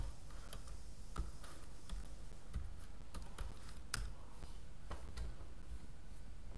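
Light, quick keystrokes on a Windows PC keyboard as a search is typed, a steady patter of faint clicks with a few sharper taps over a quiet room background.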